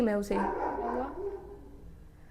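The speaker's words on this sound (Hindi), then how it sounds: "कुत्ता भौंक रहा है, भौंक लेने दो" A dog barks briefly at the start, a short yelping burst that is quickly covered by someone talking close up.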